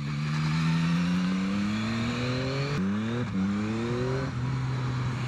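A 2023 Yamaha MT-09 motorcycle engine drones close by, its pitch climbing steadily, then dropping sharply and rising again as gears change during the ride.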